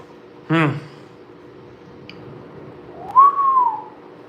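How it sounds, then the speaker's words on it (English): A person whistles a single rising-then-falling note, clear and close in a quiet bar, following a short voiced sound earlier. "I've been doing pretty good on the whistling so far"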